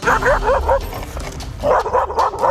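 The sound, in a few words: aggressive dog barking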